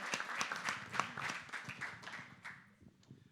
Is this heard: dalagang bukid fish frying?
no